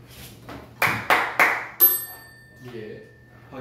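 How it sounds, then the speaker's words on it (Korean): A few sharp claps in quick succession, then a bright ringing ping that lingers, with faint murmuring voices around them. "박수구나"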